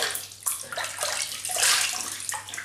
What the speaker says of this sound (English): And I'm just going to wet my face and wet the soap.